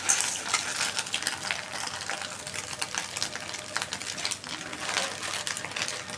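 Noodles go into a hot pan of fried ingredients, producing a continuous crackling sizzle with busy, uneven popping and stirring scrapes at moderate, close volume.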